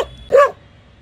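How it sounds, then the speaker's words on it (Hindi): A dog barks once at a dummy kite lying near it outdoors, a single short, sharp bark after a brief lead-in, fairly close and clear with no talk over it. "डमी को भौंक रहा है ये"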